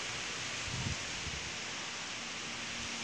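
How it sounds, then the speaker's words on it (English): Steady wind gusts outdoors, a continuous broad rushing roar that hardly changes, with a low buffeting rumble near the start and no voices. "what the hell is with the wind all of a sudden?"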